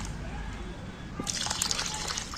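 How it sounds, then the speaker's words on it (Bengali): Water is poured into a bowl of rice to soak it, a soft trickling that turns into brighter splashing and dripping partway through, close and fairly quiet. "আধ ঘন্টা কি পৌনে 1 ঘন্টা চালটা আমি জলে দিচ্ছি"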